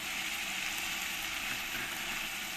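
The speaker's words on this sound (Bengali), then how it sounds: "দিয়ে একসঙ্গে ভালো করে পেঁয়াজের সঙ্গে কষিয়ে নেব। আর এর মধ্যে দিয়ে দেবো আমি টমেটো পেস্ট" Onion sautés in a pan with ginger-garlic paste and tomato paste, giving a steady, even sizzle that hisses continuously throughout without a break.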